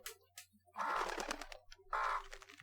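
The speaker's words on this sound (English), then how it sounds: "I'm not used to those new crow sounds, that's for sure." A crow caws in the video game WolfQuest, two loud harsh calls close by, separated by a short pause, with fainter scattered sounds around them.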